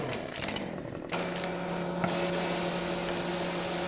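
Chainsaw in the video game Farming Simulator 15, a steady high-pitched motor whine that jumps to a faster, louder rev partway through and holds there with a sharp buzzing drone.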